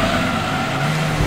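A Chevrolet Camaro V6 engine in the racing game Gran Turismo 2, a loud, steady synthetic engine drone holding close and constant with a slight rise in pitch at the end, with faint tire noise mixed in.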